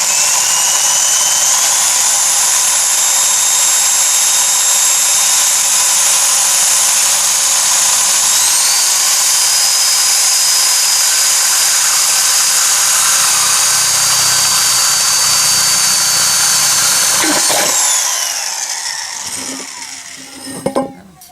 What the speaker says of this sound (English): Put the drill bit right into the center where your hole is.